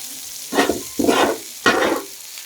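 Long-sliced large onions fry in a pan for Kerala-style squid thoran, with three loud bursts of hissing sizzle as they are stirred and tossed, quieter crackle between bursts, up close and without talk.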